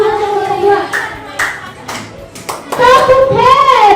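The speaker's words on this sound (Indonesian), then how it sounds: "Mari kita kasih tepuk tangan buat kelompok 2." A group of sixth-grade schoolchildren claps together in a classroom, giving a few scattered rhythmic claps over loud, overlapping children's voices and cheering.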